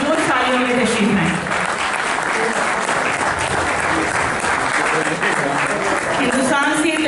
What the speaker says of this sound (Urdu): ہمارے شاعر جناب محترم منظر بھوپالی صاحب، میں گزارش کروں گی کہ آپ کی پرجوش تالیوں میں تشریف لائیں